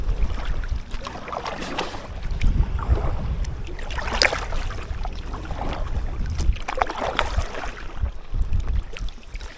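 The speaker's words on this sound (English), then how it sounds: "Scraping against the pontoons." An inflatable kayak on the Caledonian Canal near Loch Oich, on the Great Glen Canoe Trail, scrapes against the canal pontoons in a series of close, rough rubbing and knocking bursts over a steady wash of wind and water.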